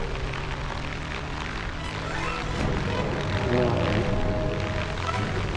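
Propeller fighter plane engine droning steadily in War Thunder Mobile, a continuous broad roar that swells slightly midway, with a faint voice underneath.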